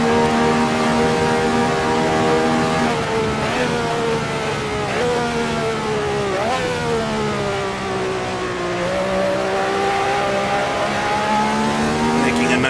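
A 1967 race car engine in the Assetto Corsa racing game at Monza revs hard and steadily, its pitch rising and falling through gear changes, loud and close throughout with no voices heard.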